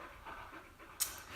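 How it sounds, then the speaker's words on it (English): A dog pants softly in quick, breathy bursts at close range, with a brief sharper noise near the end and no talking. "You hear that? That's a dog."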